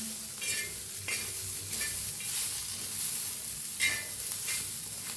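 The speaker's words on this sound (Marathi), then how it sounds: "वर टाकायची अशी कोथांबीर आणि एकदम मिक्स करूया" Coriander stirred into a pan of fried green chillies, with steady soft sizzling broken by repeated scraping strokes of a spoon against the pan, close and fairly quiet, and no talking.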